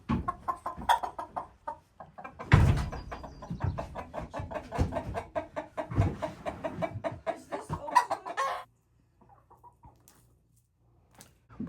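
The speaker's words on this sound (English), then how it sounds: "it ended up being one rooster and 2 hens" A small group of chickens, one rooster and two hens, cluck and squawk in quick irregular bursts, close and busy for several seconds before falling quiet, with some rustling.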